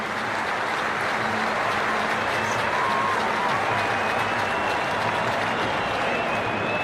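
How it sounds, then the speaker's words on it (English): A big cricket stadium crowd applauds Virat Kohli's first Test century in a steady, roaring wash of clapping and cheering that never lets up, with faint commentary buried underneath. "Appreciated by this big crowd as well"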